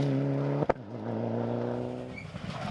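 A Subaru rally car on a Donegal International Rally stage drives by with a sustained engine drone whose pitch shifts after a sharp knock, then fades slightly as it goes.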